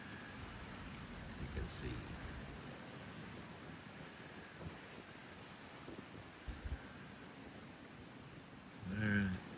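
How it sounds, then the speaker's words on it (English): Rain falls outside a house on Sao Jorge as Hurricane Gabrielle arrives, a faint, steady hiss throughout, with a few soft knocks and a brief spoken phrase near the end. "It's starting to rain."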